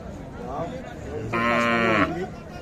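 A small cow lets out one long, loud moo that rises and then breaks off, with murmuring voices of a cattle market in the background.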